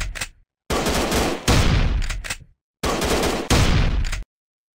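Gunfire in an Android shooting video game comes as rapid automatic bursts, two pairs of long loud volleys split by abrupt silences, with no talking.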